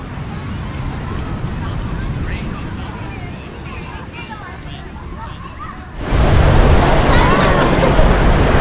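Ocean surf and wind at Laguna Beach in Southern California, a loud, constant rushing roar of wind buffeting the microphone over breaking waves, growing harsher and louder toward the end, with a voice present.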